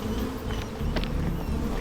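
Steady insect-like buzzing of video game bees drones throughout, a dense swarm hum with a few brief sharper tones mixed in.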